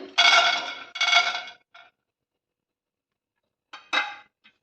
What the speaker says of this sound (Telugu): ఇందులోకి ఒక 2 స్పూన్స్ వచ్చేసి పల్లీలు యాడ్ చేస్తున్నాను